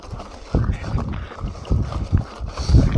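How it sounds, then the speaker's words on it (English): Gusty morning wind on a mountain bike trail buffeting the microphone in low rumbling bursts, close and loud, rising and falling several times. "It's actually super windy this morning."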